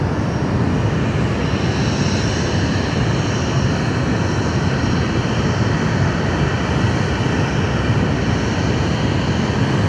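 A jet airliner passes at Sydney Airport during morning rush hour, a loud steady roar of engine noise that holds for the whole stretch without breaks or voices.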